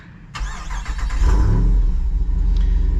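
A deep V8 engine in a Jeep Wrangler Rubicon 392 fires up and revs, a loud throaty rumble building and holding steady with a brief higher blip near the end.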